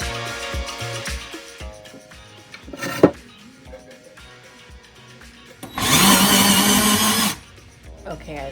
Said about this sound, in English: Finally, I can drill the first hole.